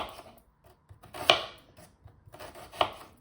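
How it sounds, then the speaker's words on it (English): A knife chopping onions and vegetables for a tofu stir fry, with two sharp, distinct cuts ringing out close by against a quiet kitchen background. "I'll cut them to the side to give these a different look."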